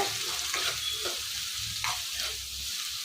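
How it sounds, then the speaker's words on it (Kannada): Half a kilo of chopped ridge gourd sautés in hot oil in a pan, a close, continuous sizzle with soft stirring scrapes and occasional light clatter, no voices. "ಹೀರೆಕಾಯಿ ಹಾಕಿ ಸ್ವಲ್ಪ ಬಾಡಿಸ್ತಿದ್ದೀನಿ"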